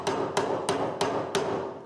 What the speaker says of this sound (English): I'll continue with my polymer hammer